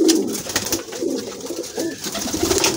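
Pigeons coo softly and repeatedly close by, their low throaty calls overlapping with faint rustling and flutters.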